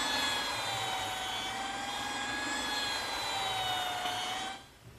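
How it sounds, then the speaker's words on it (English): A small belt sander smoothing jigsaw cuts on wood whines steadily at close range with a high droning tone for several seconds, then winds down at the end; no talking. "to smooth up the saw cuts from the jigsaw, I'm just using my small belt sander"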